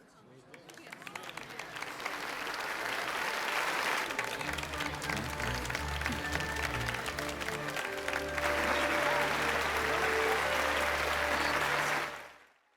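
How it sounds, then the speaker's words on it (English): A large crowd in a Final Fantasy 12 cutscene cheers and applauds steadily, a dense roar of clapping and voices that swells and holds before cutting off abruptly. "he convinces the population to cheer him on instead anyway"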